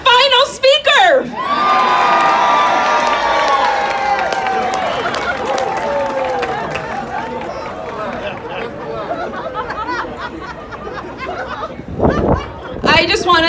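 A crowd at the Queens Rises Against Hate rally in Flushing cheers, whoops and claps loudly for the final speaker, with shouts and chatter, fading and then swelling again near the end.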